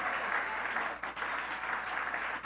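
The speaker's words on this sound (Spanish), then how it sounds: "dele un aplauso al nombre de Jesús" A church congregation applauds the name of Jesus during a Sunday morning service, a dense, continuous wash of clapping from many hands at moderate distance.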